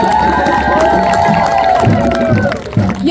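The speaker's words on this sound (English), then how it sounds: "Please give a round of applause to Mama" Crowd at the Detroit Food Commons grand opening ribbon cutting cheering and shouting with some clapping, a loud lively mix with voices calling out over it throughout.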